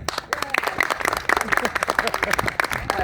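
Live audience clapping to vote on whether a tune is a folk song, a burst of crowd applause with distinct claps, while people talk over it.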